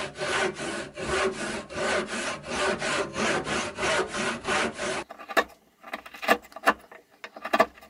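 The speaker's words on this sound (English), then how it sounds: "Here I'm laying out and cutting a slot for the screw." A handsaw cuts a slot in wood for a tail vise screw on a workbench build, with steady rhythmic strokes for about five seconds, loud and close, then a few slower, sparser strokes.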